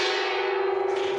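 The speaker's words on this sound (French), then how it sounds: "à la fin de chaque mois, on tape dans le gong." A gong struck in a trading room rings out as one long sustained metallic tone with steady harmonics, loud and close, decaying slowly with no voices over it.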